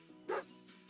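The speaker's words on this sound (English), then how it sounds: "Oh my god, this stupid ass dog, bro." Tugarin, a video game dog, gives a single sharp bark close up, brief and alone against a quiet background.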